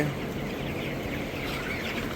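Nineteen-day-old broiler cockerels cluck throughout a poultry shed, a dense, continuous murmur of many birds at moderate loudness with no talk.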